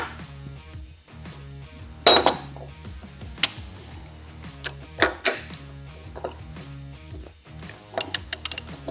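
A ratchet, likely fitted with a cheater bar, loosens a left-hand thread locking nut on a DRILLMAX DM250/DM450 drilling head, producing bursts of sharp mechanical clicking with a few louder metallic clinks, close and clear.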